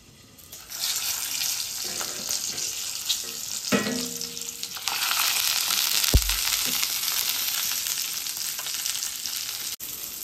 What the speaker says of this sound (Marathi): वांगी आहे ती तेलामध्ये जरा परतून घेणार आहे।